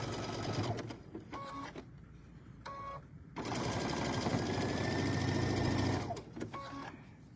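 Quilt units for a kitten tabletop banner being sewn together on a sewing machine, with a few short bursts of stitching followed by a longer steady run close by, then brief stops and starts.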